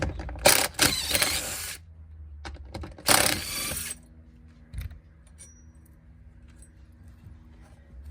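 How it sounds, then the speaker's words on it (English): Ratchet with a 12mm socket working bolts loose from the rear seat backing of a 2006-2011 Honda Civic: two bursts of close metallic clicking and rattling, then quiet with faint small knocks. "Use a 12mm socket to remove them."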